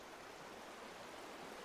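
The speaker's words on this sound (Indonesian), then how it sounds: "Setelah suara derasnya air sungai terdengar" A river rushes in a steady, dense wash of water noise that stays even and fairly loud throughout, with no voices.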